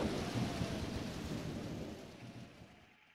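A thunderstorm in the Pokemon Mystery Dungeon game: steady hissing rain with a low rolling rumble of thunder that slowly fades out toward the end.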